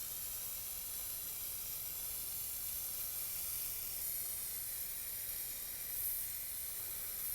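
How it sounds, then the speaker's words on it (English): A steady, continuous hiss of aerosol varnish spray, even and unbroken throughout, fairly close with no talking. "Don't spray too much"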